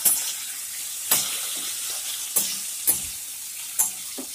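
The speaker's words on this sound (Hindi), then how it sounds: "इनको कर लेंगे फ्राई।" Gatte, gram flour dumplings, frying in mustard oil in a kadhai, a steady close sizzle broken by a few sharp scrape-and-stir knocks spaced about a second apart, with no talking.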